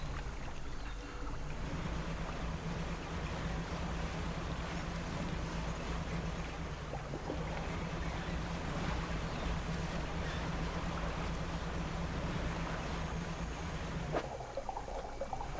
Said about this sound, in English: Like vague engine noises from the center of the mangrove.